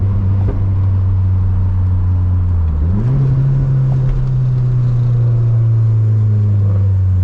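A new Ford Mustang's deep engine rumbles steadily in sport mode, dips, then rises into a revving surge and holds a loud, throaty drone close by.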